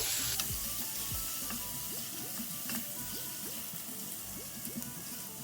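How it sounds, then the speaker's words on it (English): Chopped garlic frying in melted ghee for a tempering, a continuous close crackling sizzle with small popping bubbles throughout, alone without voices. "Fry the garlic for a few minutes until the raw smell goes away."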